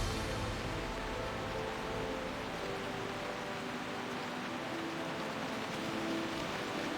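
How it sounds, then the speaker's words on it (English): Heavy rain hissing as a dense, even wash of noise, steady and close throughout with no voices, accompanied by faint tonal background sounds. "rain is heavy here"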